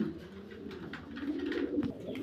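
Arabian koka pigeon cooing close by, a few soft low throaty coos in quick succession.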